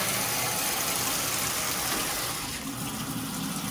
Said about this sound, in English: As I'm changing the temperature, you can see in the washer the water is filling.